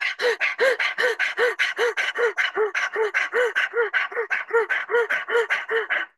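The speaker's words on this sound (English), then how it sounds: "Stick the tongue out to do Swan Pranayam," Rhythmic, forceful panting breaths of the Swan Pranayam yoga exercise, done with the tongue out like a panting dog, about sixteen quick evenly spaced huffs, close and loud.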